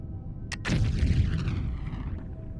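In the video game Foundry, two quick explosions go off close together, then a deep booming rumble slowly fades away.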